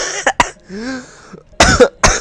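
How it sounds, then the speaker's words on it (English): A person coughs repeatedly and loudly at close range, a few sharp bursts with a voiced throaty sound in between and a pair of harsh coughs near the end. "excuse my coughing"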